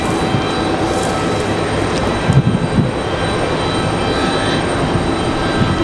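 An America West airliner departing Raleigh-Durham for Charlotte rumbles in a broad, continuous jet roar, steady and fairly loud, with gusty wind noise and a few low thumps mixed in and no one talking.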